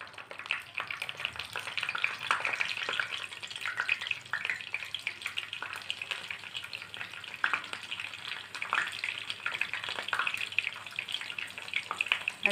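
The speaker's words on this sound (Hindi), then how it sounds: "तेल गरम हो गया है, दाल को मैंने इस तरह से इसमें डाल ली है।" Whole green moong dal fries in hot oil, giving a steady, close crackling sizzle with light bubbling pops throughout, and no voices.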